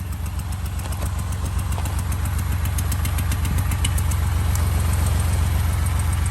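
A Honda car engine runs as an air compressor to fill a flat tire, giving a loud, steady low drone with an even pulsing throb and a constant hiss on top, unbroken and close.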